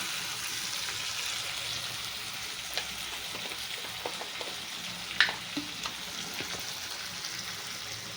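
Water poured into a hot pan of curry sizzles and fries steadily, a continuous hiss with a few small pops and clinks of stirring, close up and alone without talk.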